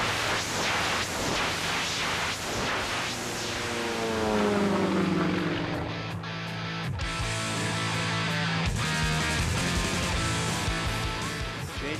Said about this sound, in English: Changes direction now and continues to roll that airplane, always in control.